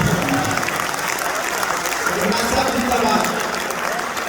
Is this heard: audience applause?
yes